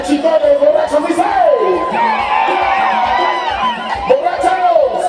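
A crowd of drunk men at a traditional dance in Metlatónoc, Guerrero, shouts and whoops together in rising, wavering cries. The yelling is loud and close and runs continuously with overlapping voices.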